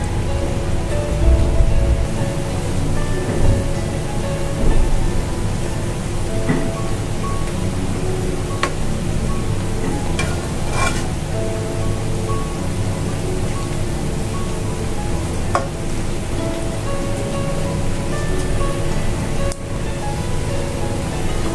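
Banana fritters (pitha) fry in oil over medium heat, making a loud, continuous, rain-like sizzle that holds steady and close for the whole stretch.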